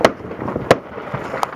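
Fourth of July fireworks bursting in three sharp, loud cracks spaced across a second and a half, with a crackling, sizzling tail between the bangs.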